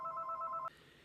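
A telephone rings with a steady electronic tone for most of a second, then cuts off abruptly, leaving faint room noise.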